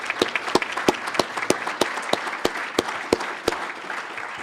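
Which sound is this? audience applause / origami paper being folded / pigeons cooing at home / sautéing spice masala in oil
audience applause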